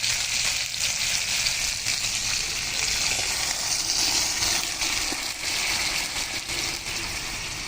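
Water hits a hot curry pan on a clay stove, setting off a loud, steady sizzle and bubbling hiss that fills the whole stretch without pause.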